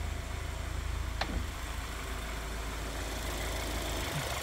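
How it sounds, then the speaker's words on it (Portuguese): A BMW 320i turbo direct-injection engine idles steadily with a low, even rumble and a faint ticking clatter, with no voices. "Carro com injeção direta realmente faz bastante barulho, tá?"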